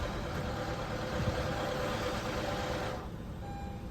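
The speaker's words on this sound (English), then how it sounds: "you might get a little bit of rattle tattle because the engine was just dry" A 2015 Honda Fit engine idling just after an oil change, a steady close mechanical drone with a light rattle that drops off and quiets near the end.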